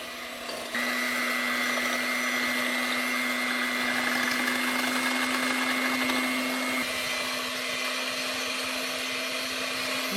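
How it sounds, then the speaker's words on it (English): An electric egg beater whirs steadily through eggs in a bowl, a loud continuous motor drone with a fixed hum that starts abruptly and holds for several seconds, shifting slightly in pitch partway through. "I'm going to beat this using a egg beater"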